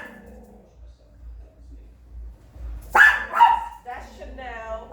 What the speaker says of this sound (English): She's barking because the window is open, so she sees my neighbors out there.